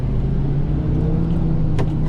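A steady low engine rumble from a nearby car idling or creeping along in a busy parking lot, with a brief higher whoosh near the end.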